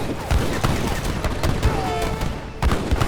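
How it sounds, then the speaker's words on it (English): A large group of captured mortars fires during an Age of Empires 3 deathmatch, heavy booms thudding at irregular intervals over a constant din of battle noise. "we do see Lakota coming up on with this large number of captured mortars"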